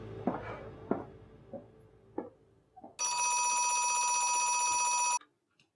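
A telephone bell rings loudly and continuously for about two seconds, preceded by a few thumps and clunks.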